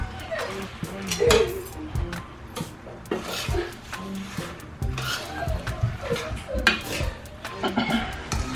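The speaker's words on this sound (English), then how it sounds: "Now I'm just going to mix this up." Shrimp pasta with lime and vegetables being stirred and tossed in a pan, with a run of close clinks and scrapes of utensil on metal and a voice talking over the mixing.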